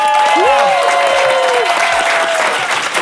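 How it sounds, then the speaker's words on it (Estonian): Studio audience at an Estonian comedy quiz show applauds loudly and continuously, a dense crowd clapping throughout, with a host's voice carrying over the top. "Aga nüüd teeme suure aplausi meie viigilistele."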